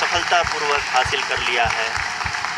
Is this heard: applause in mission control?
yes